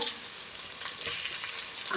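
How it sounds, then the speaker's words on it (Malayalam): Ginger garlic paste dropped into hot oil for chicken biryani, a loud, dense sizzle and crackle of frying that stays close and continuous throughout, with no voices. "അതേ എണ്ണയിലേക്ക് ഇഞ്ചിയും വെളുത്തുള്ളിയും പേസ്റ്റ് ഇട്ട് കൊടുക്കുന്നു"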